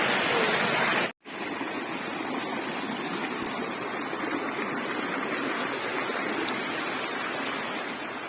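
A waterfall's steady, powerful rush of falling water roars continuously, broad and unbroken, with only a momentary dropout near the start.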